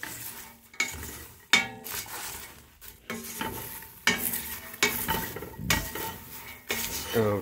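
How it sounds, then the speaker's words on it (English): A turmeric-laden popcorn mixture is stirred in a hot pan, with repeated loud scrapes and clanks of a utensil against metal every second or so over a low sizzle, no talk. "And now we get stirring."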